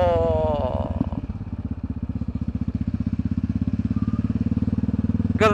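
Yamaha XT motorcycle engine thumping in a fast, steady rhythmic putter up close, after a brief rising rev at the start, continuing evenly throughout.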